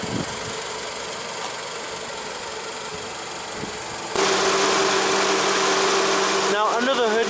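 A 2001 Honda Civic's 1.7-liter inline four-cylinder engine idles steadily nearby, growing louder partway through as the low rumble becomes more prominent.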